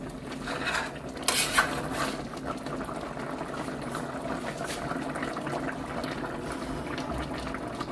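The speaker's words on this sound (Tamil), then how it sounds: "சிக்கன் குழம்பு அப்போ பார்ப்போம் நல்லா கொதிச்சு கொண்டிருக்கு" Chicken curry boiling in a pot on the stove, a steady close bubbling and simmer with a few louder clinks near the start.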